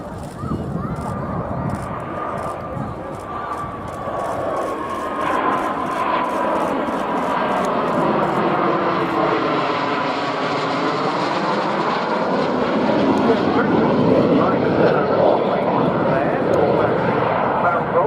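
A BAC Strike Master jet trainer performs an air show display at RNAS Yeovilton, its engine roar sustained and loud throughout with slowly sweeping Doppler tones as it passes, mixed with commentary from a public address.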